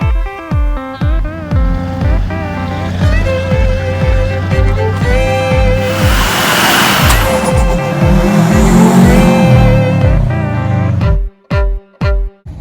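A 2004 truck with an LB7 diesel engine and 25,000 miles revs hard and loud, the pitch climbing and falling through long pulls before ending in a few sharp, separate throttle blips.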